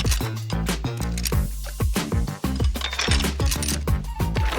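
A cartoon sound effect of a key dropping out of a mouth after a tooth is lost, a run of bright metallic clinks and tinkling hits over an underlying musical beat.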